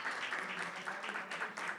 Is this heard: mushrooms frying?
no